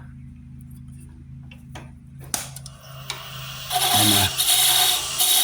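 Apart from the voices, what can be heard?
wood lathe shaping a tenon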